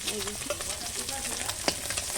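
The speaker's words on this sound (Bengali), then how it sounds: "পিসগুলো সুন্দর করে ভেজে নিয়েছি" Pieces fry in oil on a wood-fired stove with a steady close sizzle, a faint clink near the end and a hint of a voice behind.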